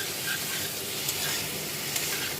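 Potatoes with salt and turmeric fry and are stirred in a pan, making a continuous close sizzle that stays even and fairly soft, with faint scrapes and no talking.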